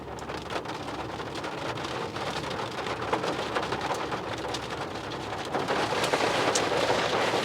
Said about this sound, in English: And there's rain over here,